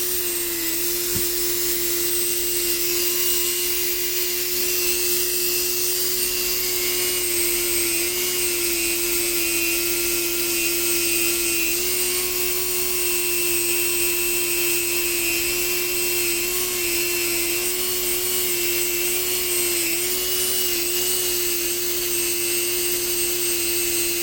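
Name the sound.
power tool polishing Glock internal parts with compound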